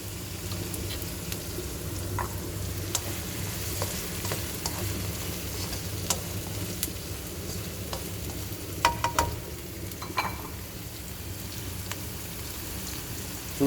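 Vegetarian tomato chutney fries in a pan under constant stirring, giving a steady close sizzle flecked with the irregular scrape and tap of a spoon, with no voices.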